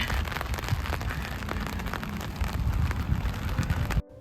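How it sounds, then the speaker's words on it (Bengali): Steady rain from a heavy rainstorm pours down in a dense, even hiss with occasional heavier patters, then cuts off abruptly near the end. "এই দেখুন কীভাবে বৃষ্টি হচ্ছে"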